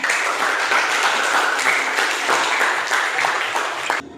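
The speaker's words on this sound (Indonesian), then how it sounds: "Tepuk tangan dulu teman" Classroom students applauding after a lesson, a steady burst of clapping from a small group that stops abruptly at the end.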